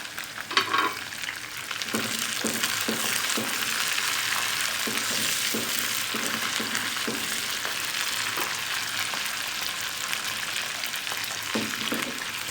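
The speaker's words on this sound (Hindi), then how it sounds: "थोड़ा सा इसको फ्राई कर लेंगे।" Chopped green chillies, fresh coriander and garlic frying in a pan of hot oil, a steady close sizzle with scattered stirring clicks running throughout.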